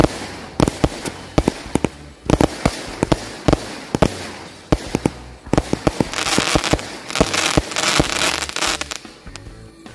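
Large fireworks and firecrackers set off during the Ramadan fast: a rapid run of loud, sharp bangs and pops, some in quick clusters, with fizzing crackle building toward the end and no voices over it.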